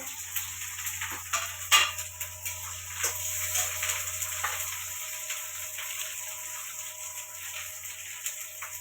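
Green chillies sizzle and fry in hot oil in a home kitchen, a steady bright crackle with a few sharper pops and spatters, close and alone without talk.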